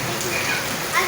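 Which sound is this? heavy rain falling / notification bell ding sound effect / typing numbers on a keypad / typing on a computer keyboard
heavy rain falling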